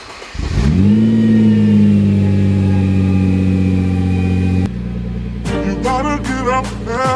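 A rebuilt Nissan GTR engine fires up and holds a loud, steady rev before dropping off, followed by several sharp rising blips of the throttle as the car pulls out, close and unaccompanied by speech.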